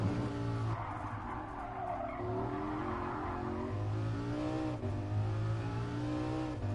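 Tires of a four-wheel-drive race car skidding and squealing in Gran Turismo Sport, a steady engine drone underneath with a long continuous tire screech, loud and close throughout.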